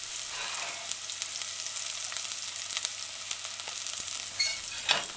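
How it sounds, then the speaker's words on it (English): Chopped onions sauté in a pan for a vegan broccoli and broad bean stew, a steady close sizzle with occasional soft spatula scrapes and clicks, no voices. "add your chopped onions. Stir it in a few times. Allow it to saute."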